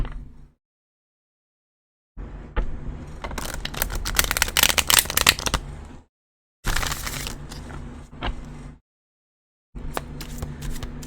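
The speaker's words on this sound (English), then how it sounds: "give it one more good shuffle" Tarot cards are shuffled in crisp riffling bursts, three separate rounds broken by brief silences, close up and fairly loud.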